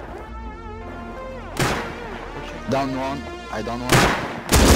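Bursts of M249 machine gun fire in a Rust PVP fight, loud and close, coming in several sharp volleys with gaps between them while someone talks over the shooting.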